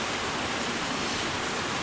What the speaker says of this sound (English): We're actually behind the waterfall.